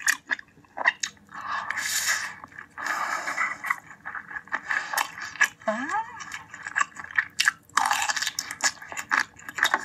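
Mukbang eating of small octopus and black squid ink paella, with crunchy, wet chewing and biting in bursts close to the mic and people talking over it in places.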